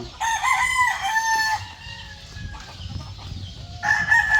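Boston Roundhead rooster crowing loudly in long, drawn-out calls, with softer clucking and farmyard bustle between the crows.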